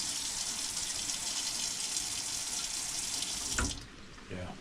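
Water pours steadily from a camper's shower faucet, a close, continuous hiss that cuts off near the end, followed by a few faint knocks.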